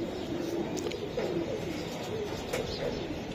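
Sapchila pigeons coo softly in a loft, low repeated murmuring calls over quiet background noise with faint chirps.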